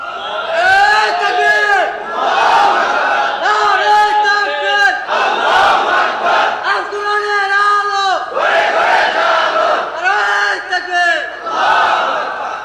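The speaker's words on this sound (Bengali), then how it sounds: "কি তাকবীর এবার দেন যায় না?" Large crowd at an outdoor religious rally chanting the takbir in loud, repeated call-and-response shouts, several rounds in steady rhythm across the whole stretch.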